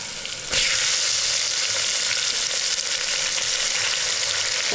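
Asafoetida fries and is stirred in a hot pan for sambar rice, a loud, continuous close-up sizzle that surges in after a brief quieter start, with no voices.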